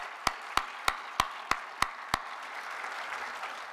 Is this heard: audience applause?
yes